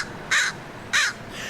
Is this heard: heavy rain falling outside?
no